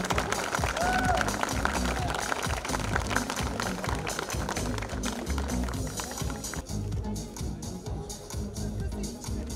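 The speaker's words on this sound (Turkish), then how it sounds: "Alkışlar." At a Turkish hill-climb rally event, a crowd claps in a dense, continuous patter of applause that thins slightly toward the end, fairly close, with crowd voices mixed in.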